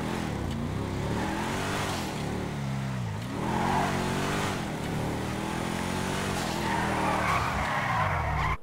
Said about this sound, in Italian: vi faccio sentire un po' il rombo di questa macchina